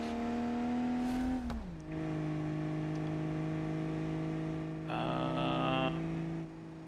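A trophy truck engine in BeamNG drones steadily, its pitch dropping once, then rising briefly in a short rev before settling again.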